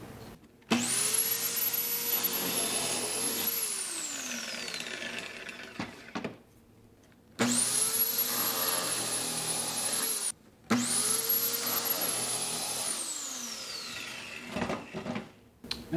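A Kreg Foreman pocket hole machine drills pocket holes in a wooden workpiece in three separate passes, each a loud, high whining motor burst lasting a few seconds with a brief pause between.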